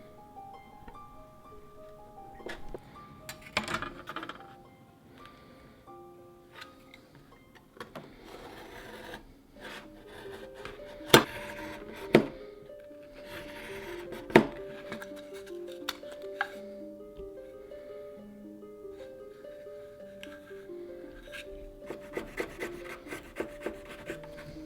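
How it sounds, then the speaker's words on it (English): Someone cuts a wooden board by hand from its other side, giving close rasping, scraping strokes in irregular bursts with occasional knocks, with no talk. "continue cutting from the other side"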